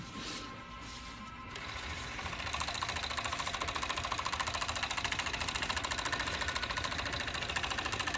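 A serger sewing machine runs at a steady fast clatter, a close, even mechanical hum with rapid rhythmic ticking that starts after a quieter moment and continues without a break.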